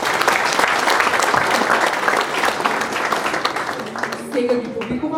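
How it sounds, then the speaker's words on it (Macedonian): Big audience applause for the candidates at a sportsperson-of-the-year awards ceremony, a loud continuous roar of clapping that thins out toward the end as a voice begins speaking. "ве замолуваме да ги поздравиме со еден голем аплауз сите овие кандидати"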